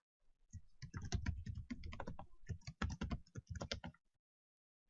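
Fingers type a title into the WeVideo editor on a computer keyboard: a quick, irregular run of crisp keystrokes for about four seconds, close and clear, then silence.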